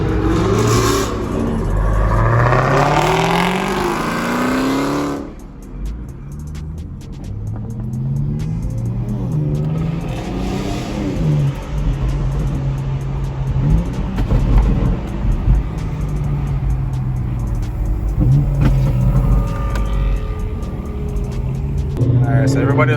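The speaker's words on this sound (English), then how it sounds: "The X3M going up against his challenger Redeye." A Dodge Challenger Hellcat Redeye and a BMW X3M Competition race at a Turkey Run car event, with loud revving, rising engine drones and rumble from nearby, and people talking and cheering throughout.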